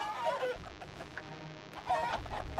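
Many chickens in the video game TABS cluck in overlapping bursts at steady moderate volume, with no voices.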